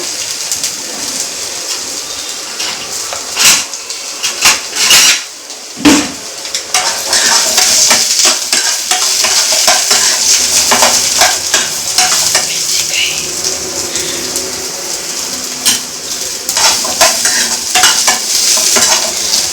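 Chopped onion sizzles in a hot pan while a utensil stirs it, with a steady frying hiss broken by repeated scrapes and metallic clinks against the pan; no one speaks.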